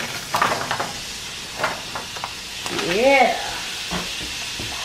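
Meatballs, heated through from frozen, sizzle and fry in hot butter in a stovetop pan, a steady crackling hiss under short bursts of talk and a brief utensil clatter.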